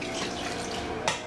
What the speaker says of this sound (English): 1 cup of water.